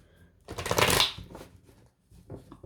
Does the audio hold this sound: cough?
no